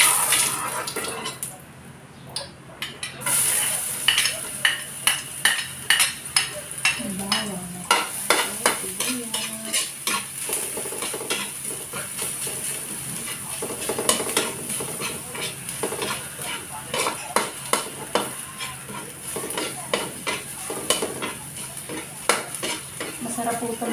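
Garlic sautés in a little oil for tilapia kaldereta, sizzling steadily while a utensil scrapes and clatters against the pan in frequent irregular strokes, close and fairly loud.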